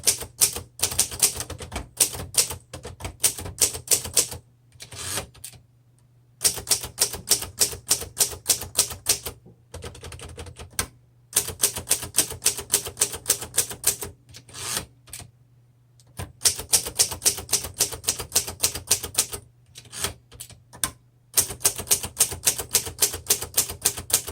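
Typing on a 1953 Underwood Deluxe manual typewriter: rapid bursts of sharp key strikes in steady rhythmic runs, separated by brief pauses, close and loud with a constant low hum underneath and no talking.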